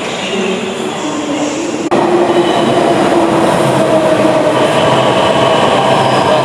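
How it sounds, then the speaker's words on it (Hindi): A Delhi Metro train pulls into a station with a loud rising rumble and rolling wheel noise, a sharp jump in volume as it nears, then a steady roar with faint squeals. "देखियो मेट्रो आबि रहल छै।"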